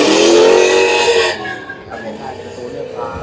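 A modified classic American Chevy truck drifting at a time attack event, a loud squealing tire screech and engine roar up close for over a second, then fading to a quieter drone while a commentator talks.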